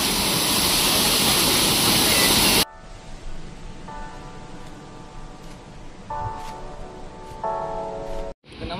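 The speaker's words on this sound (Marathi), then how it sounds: "तर इथे जास्त पाणी वगैरे पडतं, त्यामुळे थोडंसं मागे येऊन तुम्ही इथे या धबधब्याचा आनंद घ्या" Waterfall at Vayngani village in Vengurla, a loud close rush of falling water for the first few seconds, then a softer steady water wash with faint tonal background sounds.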